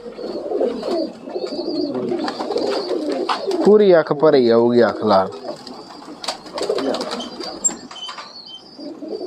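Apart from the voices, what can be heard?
red-eyed pigeons cooing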